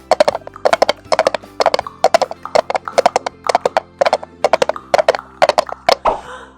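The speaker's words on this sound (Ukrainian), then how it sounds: "Ви чуєте, як біжить конячка?" A horse trots past in a steady clip-clop rhythm of sharp, loud hoofbeats in quick pairs and triplets, ending with a short whinny-like sound.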